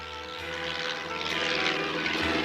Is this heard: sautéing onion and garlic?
no